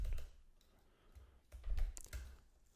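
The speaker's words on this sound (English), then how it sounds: "if I type in our date, let's say September 7th." A computer keyboard tapped in short bursts while a date is entered into an Excel spreadsheet, soft close clicks and ticks scattered unevenly with quiet gaps between.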